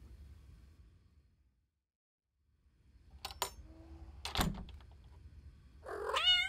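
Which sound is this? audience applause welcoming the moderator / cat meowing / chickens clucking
cat meowing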